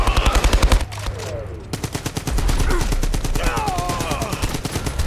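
M1941 light machine gun in Brothers in Arms 3 firing loud, rapid automatic bursts, with a brief pause early on before sustained fire resumes, close and dominant.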